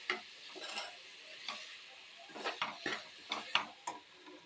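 Boiled cluster beans being stirred into a tomato gravy in a pan, a series of soft wet scrapes and clicks at an irregular rhythm over a faint simmer.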